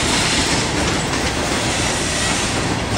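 An eastbound CSX mixed freight train bound for Baltimore rolls past close by, a loud, continuous roar with clattering wheels and faint squeals.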